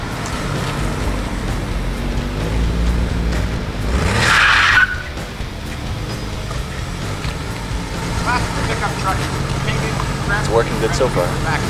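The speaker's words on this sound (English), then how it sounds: "Rob, let's peel around the corner and then slow down stuff here." A car peels out around a corner with a sharp, loud tire squeal that rises and fades over about a second, set against steady engine rumble and wet road noise, with voices talking before and after.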